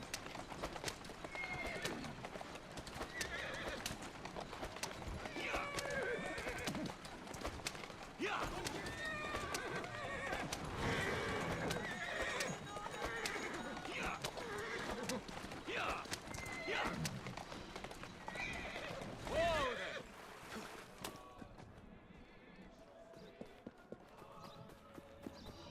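A horse-drawn carriage in Assassin's Creed Syndicate rattles along with brisk clip-clopping hooves and occasional whinnies, fairly quiet, with someone talking over parts of it.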